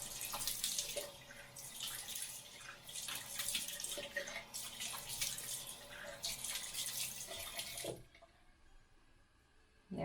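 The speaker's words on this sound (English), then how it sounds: "But usually I just rinse my face off." Tap water runs steadily into a bathroom sink while a face is rinsed, close splashing and gurgling for several seconds before the flow stops abruptly near the end.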